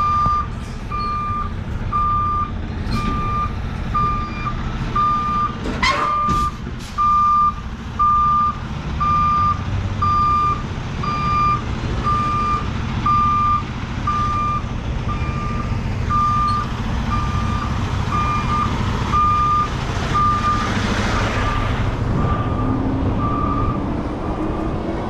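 A truck reverses with a steady, evenly spaced electronic beeping over a constant rumble of road traffic, heard for a long stretch with no speech.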